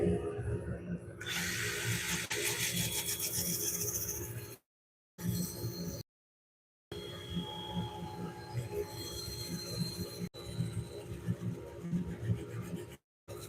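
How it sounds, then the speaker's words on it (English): A cork oak bowl is sanded while spinning on a wood lathe, giving a steady raspy rubbing hiss with a humming motor underneath, briefly broken by a few short silent cuts. "You can't do it any other way other than sanding."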